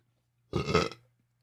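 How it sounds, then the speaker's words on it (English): One short, loud, close burp from a man, heard alone against silence. "Oh, I got a burp."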